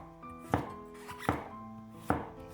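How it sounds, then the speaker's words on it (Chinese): Knife chopping cucumber on a cutting board, three distinct crisp strikes spaced at irregular intervals, close and fairly loud with a faint steady hum underneath and no talking. "然后将黄瓜切成薄片，尽量切均匀一些"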